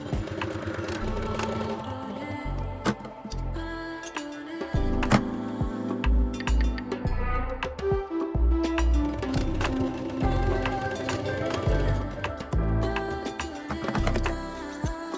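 A sewing machine runs in rapid mechanical bursts while stitching pleat lines on wide-leg pants, its needle ticking steadily with short pauses and restarts throughout.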